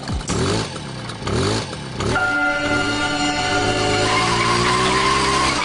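Engine sounds from a cartoon scooter as the accelerator is twisted, starting with a few skidding revs, then a sustained rising engine drone with tonal whines building toward the end.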